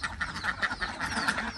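A flock of ducks quacks repeatedly at feeding time, rapid overlapping nasal calls at close to moderate distance, with no one talking.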